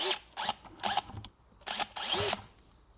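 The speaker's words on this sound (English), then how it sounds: "we're going to drill a hole in every opening" A power drill runs in several short bursts, drilling holes in a homemade honey bee feeder, whirring up and stopping between each, close by with quiet gaps in between.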